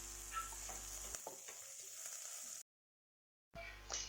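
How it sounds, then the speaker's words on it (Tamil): Curry leaves and green chilies sizzle and crackle in hot oil with stirring scrapes, a brief silent gap, then the frying resumes. "பச்சை மிளகாய் சேர்த்து நல்லா வதக்கிக்கலாம்"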